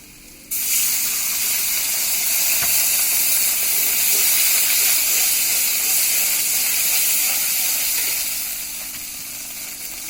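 Water splashed onto frying onions and spices for an eggplant bhuna bursts into a sudden loud sizzle, then holds as a strong steady steam hiss before tapering off near the end.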